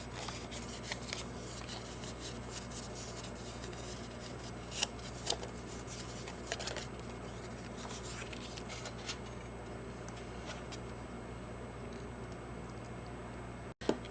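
Scored paper card stock is folded by hand, giving soft, quiet rustles and occasional crisp creasing snaps, close and intermittent, with a sharp tap near the end.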